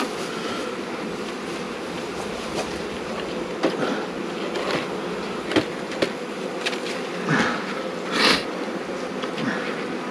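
Honey bees buzz around hives while supers are being cleared, a steady close drone with individual bees zipping past the microphone in brief louder swells.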